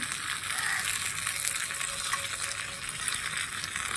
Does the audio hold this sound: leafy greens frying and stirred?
yes